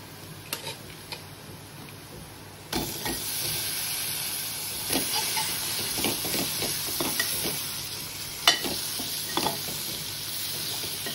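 Chicken legs are stirred in a hot pot: scraping strokes and soft clatter over a constant sizzle, getting louder once the stirring starts.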